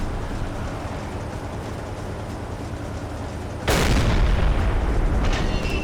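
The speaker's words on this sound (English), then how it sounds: "There was an explosion and a new fire was started on board." Aboard a ship in the Silent Hunter 3 naval game, a single heavy boom bursts out over a steady roar of sea and engine noise, loud and close.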